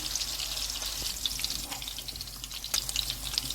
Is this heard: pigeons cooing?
no